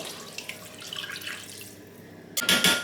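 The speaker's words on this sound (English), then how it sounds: "And then add more water for the soup." Water poured into a pot of egusi soup with palm oil, a quiet stirring patter first and then a short, loud splashing pour near the end, with no talking.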